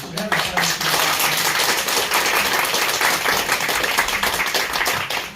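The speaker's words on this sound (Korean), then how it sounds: "많은 박수로 맞아주시면 감사하겠습니다." Audience clapping steadily to welcome a speaker at a Korean art-history talk, a dense, sustained patter of many hands filling the room throughout, with some voices mixed in.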